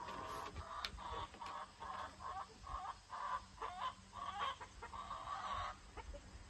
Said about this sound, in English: one of the hens was just singing